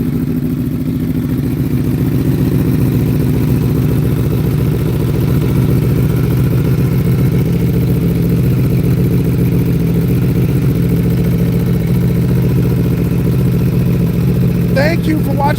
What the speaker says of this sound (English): Let's get a cold start of this gorgeous bike.